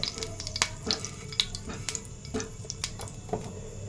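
Two or three spoons of ghee go into a hot kadai on the stove for carrot halwa, giving a soft frying sizzle under a series of close spoon clinks and taps against the metal pan.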